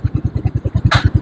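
Suzuki Raider 125 motorcycle, roughly 20 to 23 years old, idling with a steady, rapid low thumping pulse, close and loud, with a brief hissy burst partway through.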